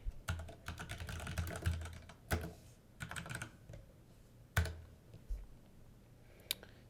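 Typing on a computer keyboard while naming a contract in Salesforce: quiet, close clicks in uneven bursts, a flurry at the start, then scattered single keystrokes and a few sharper taps.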